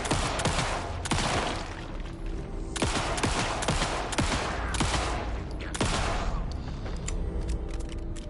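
Loud, sustained gunfire from Alan Wake 2 rattles without pause, with repeated sharp shots and booming bursts stacked close together across the whole stretch and no voices audible.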